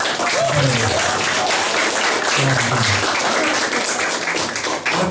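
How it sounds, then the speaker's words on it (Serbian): An audience at a festival opening claps in a sustained round of applause, dense and even throughout, with a voice speaking faintly over it. "ajmo jedan aplauz za sva 3"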